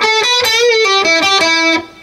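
A short electric guitar riff from a song, about seven quick distinct notes including a bend, release and pull-off, played close and clear with a slightly overdriven tone before ringing out.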